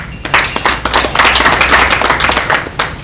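An audience at a human rights network gathering claps after a welcome speech, a loud, dense patter of many hands that continues steadily for several seconds with no talking.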